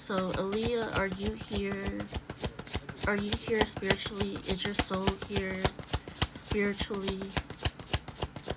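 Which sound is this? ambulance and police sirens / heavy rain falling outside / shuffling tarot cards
shuffling tarot cards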